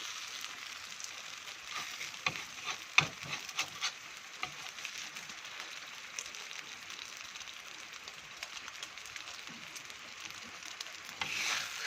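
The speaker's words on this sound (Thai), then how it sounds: "เป็นขั่วไข่หรือจะเป็นทอดไข่นะครับ" Eggs frying in a pan, a steady close sizzle with scattered small pops and crackles, fairly quiet and alone.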